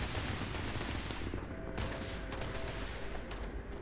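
A steady, dense barrage of gunfire from the Maelstrom weapon in the space game Starfield roars continuously and loudly, with no speech over it.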